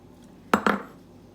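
Two quick clinks of a utensil against a bowl while tossing a cucumber and king prawn salad, close and moderately loud against a quiet background.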